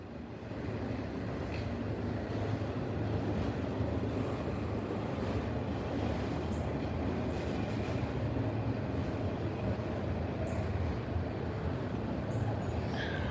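A long, steady roar of a freight train with several lead locomotives and mid-train DPUs rolling past nearby, with rumbling wheels, faint clanks and some wind buffeting the microphone.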